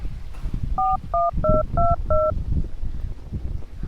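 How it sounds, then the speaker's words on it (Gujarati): Telephone keypad tones as a number is dialed: five quick, evenly spaced beeps that stand out clearly over a low background murmur. "તમે ફોન લગાડો"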